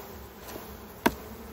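A short burst of honey bees buzzing on a hive frame nearby, a soft steady hum broken by one brief knock.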